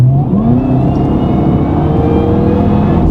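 A supercharged Cadillac CTS-V engine revs hard on the street, its deep roar climbing in pitch with a thin supercharger whine riding above it, close and loud with no talking.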